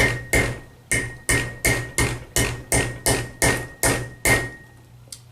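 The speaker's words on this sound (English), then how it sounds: "Little hammer strokes like this, just to retain the end of that strap" A small hammer strikes metal strap clamp ears, about eleven sharp, evenly spaced knocks ringing close and clear with no talking.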